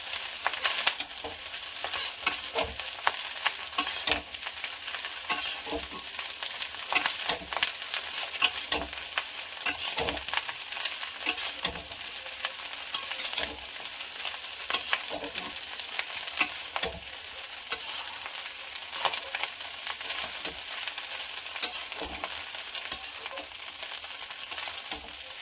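Basmati fried rice being stir-fried and tossed in a pan, with a continuous sizzle and repeated scraping of a spatula against the metal at an even pace.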